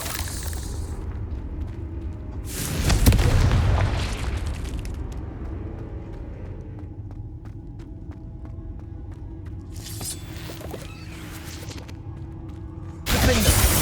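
Confringo fire spell explosions in Hogwarts Legacy, loud booming bursts with crackling debris, one early, another heavier blast around three seconds that rumbles off, later sharp cracks and a final burst, separated by quieter ambient game sound.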